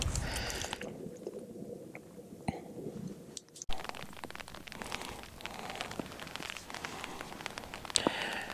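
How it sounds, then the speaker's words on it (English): Light rain pattering outdoors at a rockhounding campsite beside a fire, soft scattered drops with a few louder taps and crackles, steady and quiet. "it's starting to rain here a little bit"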